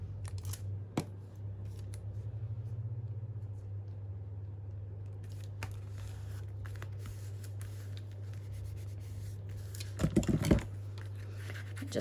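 Scissors snip through a sheet of 12-inch patterned craft paper for a junk journal, giving a short cluster of crisp, close cuts near the end over a steady low background hum.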